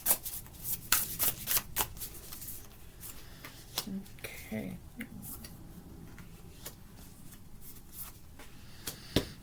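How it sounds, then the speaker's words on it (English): Tarot cards shuffled by hand ahead of a week-ahead reading, giving a run of quick papery riffles and soft slaps, close and fairly quiet, with no talk over them. "give some cards please for the week ahead"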